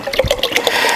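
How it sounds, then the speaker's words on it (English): Fresh key lime juice, a quart of it, pours into a mixing container for Italian ice made in a countertop batch freezer, giving a loud, close, continuous liquid splashing and gurgling. "I'm using fresh key lime juice. So I'm going to pour that in here"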